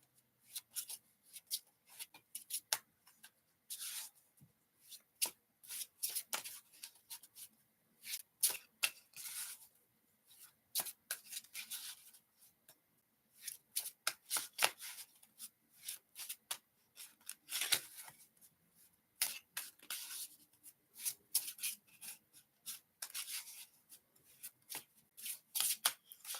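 Heavy foil tarot cards are shuffled by hand in repeated quick riffling bursts, crisp, papery and close, with short pauses between rounds and no voices.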